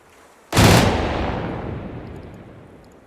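A single loud gunshot or blast in a military video game featuring Swedish and Russian insurgent forces cracks sharply after a quiet moment, then a long rolling echo decays slowly over the following seconds.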